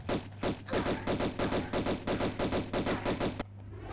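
Rapid bursts of gunfire from Tomb Raider Remastered, about a dozen evenly spaced loud shots in quick succession, ending abruptly into quiet near the end, with no talking.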